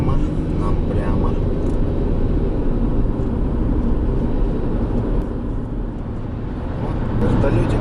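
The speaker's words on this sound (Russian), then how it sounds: "Вот, вертолетик летит." A helicopter, apparently a private one, passes overhead along a highway between Krasnoyarsk and Chelyabinsk, its drone blending into steady road and engine rumble heard from inside a moving car.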